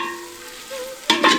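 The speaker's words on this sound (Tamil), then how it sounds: "அடுத்து 1/4 தேக்கரண்டி மஞ்சத்தூள், நறுக்கின 150 கிராம் தக்காளியை சேர்த்து வதக்க ஆரம்பிச்சிருவோம்." Chili powder, turmeric and chopped tomatoes sauté in a pan for a village-style country chicken biryani, a faint tonal hum before a sudden loud sizzling burst near the end.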